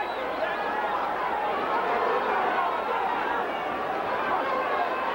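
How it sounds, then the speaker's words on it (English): Arena crowd roaring and chattering steadily through a heavyweight boxing bout between Ray Mercer and Tommy Morrison, a dense continuous wash of many voices, loud and unbroken, with a commentator's voice over it. "Crowd getting into this one."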